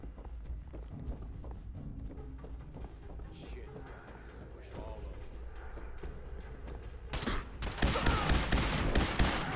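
Rapid bursts of gunfire from a shotgun with a splitter mod in the video game Fallout 4 on survival difficulty, a clattering volley that grows dense and loud near the end, mixed with game sounds under a speaking voice.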